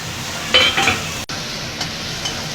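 Ginger paste fried with onion and tomato in a pan makes a soft sizzle, broken by a burst of stirring and a brief clink of a spoon against the pan.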